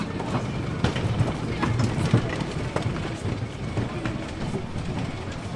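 Nickelodeon Streak, an orange wooden roller coaster at Blackpool Pleasure Beach, rattles along its track with steady clickety-clack and sharp wheel knocks, a close and continuous train ride with some crowd noise behind it.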